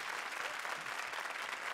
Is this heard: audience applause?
yes